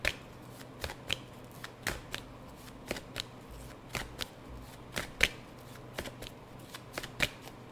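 A deck of tarot-style cards is shuffled in short, crisp riffles and taps, a steady series of sharp snaps spaced about half a second apart, close and moderately loud with no talking.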